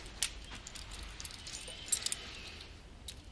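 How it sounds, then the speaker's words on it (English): Keys jangling for a barn, several quick, bright metallic clinks over quiet indoor background, with a cluster of jingles near the middle. "Just went to bring your keys for the barn."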